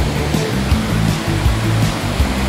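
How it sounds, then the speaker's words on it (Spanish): The Sutú waterfall in Mistrató roars as a steady, loud wash of falling water, close by and unbroken, with no talk over it. "Ahí les muestro la cascada del Sutu."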